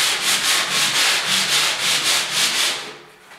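A coarse sanding sponge rubs lightly across a prepped wall in quick, even back-and-forth strokes, a close scratchy swish repeating about every quarter second before it trails off.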